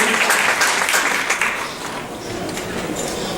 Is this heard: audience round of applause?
yes